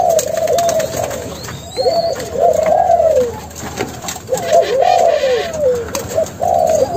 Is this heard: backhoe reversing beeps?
no